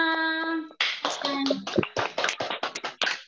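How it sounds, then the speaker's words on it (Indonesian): Scattered clapping breaks out at a kindergarten graduation ceremony, irregular close hand claps following a brief sustained tone, fairly loud and uneven. "tepuk tangan dulu untuk semua"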